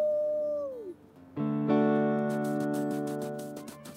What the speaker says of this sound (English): Just going to howl.